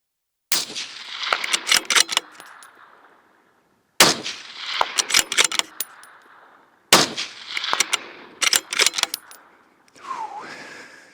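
Three bursts of bolt-action rifle fire and metallic clatter from a rifle on an Ultradyne chassis, each a sharp crack followed by rattling, separated by short silences, loud and close, with a faint tonal squeal at the end.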